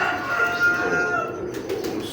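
Pigeons cooing nearby, a soft, fairly loud burble over a steady background wash for about two seconds, with no voices.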